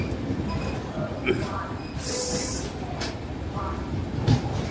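The Kerala Express sleeper train rolls out on departure, giving a continuous low rumble of wheels and carriages with occasional clanks and a brief hiss, heard from inside the coach.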